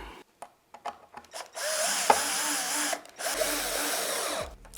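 A power drill whirs in a sustained burst as it drives a screw into a surface-mounted light fitting, preceded by a few short clicks and taps of handling, heard up close without talk.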